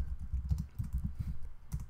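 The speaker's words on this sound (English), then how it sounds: "my typing is terrible" Fingers tapping a computer keyboard while writing Java code, a quick uneven run of soft close keystrokes over about two seconds.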